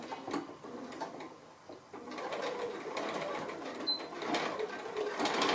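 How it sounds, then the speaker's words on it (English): A sewing machine runs a straight stitching line down a fabric pocket, a steady mechanical whir that holds continuously at close range with no talking. "I'm just going to do my stitching line right on that line that I marked onto the pocket"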